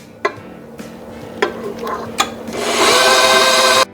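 Stand mixer beating butter, sugar and eggs for sugar cookies, starting with a few sharp knocks and clatters and then settling into a loud, steady whirring hum near the microphone before cutting off abruptly.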